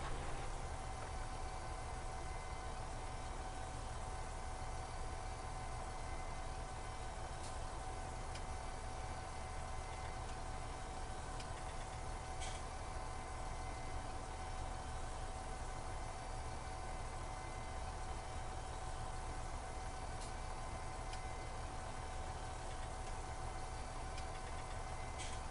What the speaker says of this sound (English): you're watching me drive my tractor